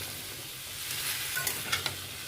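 Mung dal with mixed vegetables and bay leaf sizzles in a pan, a soft steady frying hiss broken by a few brief scraping stirs near the end.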